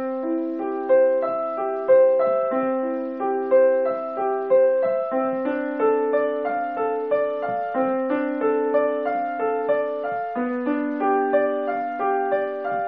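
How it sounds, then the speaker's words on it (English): Solo piano plays measures 1 through 8 of Bach's Prelude in C Major, a continuous flow of gently rising arpeggiated chords at a calm, steady pace, close and alone without speech. "Now let's play all of measures 1 through 8 together."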